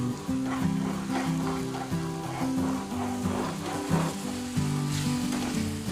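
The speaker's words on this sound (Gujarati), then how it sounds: "આવી રીતે આપણે થોડું થોડું દૂધ નાખતા જશું અને મિક્સ કરતા જશું" Milk poured in little by little and stirred into a sizzling adadiya (urad flour and jaggery) mixture in a pan, a steady close frying hiss with soft stirring scrapes, no talk.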